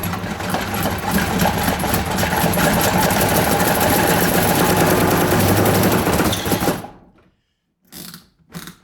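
A clove disrober machine runs steadily and loudly with a dense mechanical whirring clatter for about seven seconds, then cuts off, followed by two brief bursts of noise.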